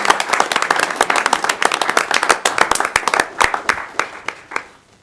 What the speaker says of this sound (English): Another round of applause for you,